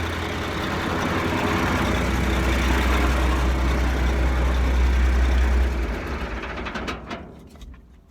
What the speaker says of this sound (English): I can shut that tractor off for right now.